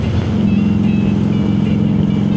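A Harley-Davidson Softail motorcycle cruising along, its engine a loud, steady low rumble with wind buffeting, close and continuous with no speech.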